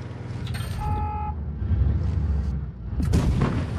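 Tank cannon shots and battle sounds in World of Tanks Blitz, with a German VK 168.01 P tank in the match: two heavy booming blasts about two seconds apart over a rumbling engine, with a few brief tonal interface beeps.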